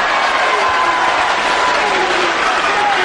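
A large crowd at a 1977 professional wrestling match between Lee Bronson and Kendo Nagasaki roars and cheers loudly and continuously, with scattered clapping mixed into the dense wash of noise.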